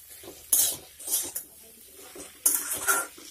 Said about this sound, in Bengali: এখন সবগুলি উপকরণ ভালোভাবে নেড়ে চেড়ে মিশিয়ে নিতে হবে।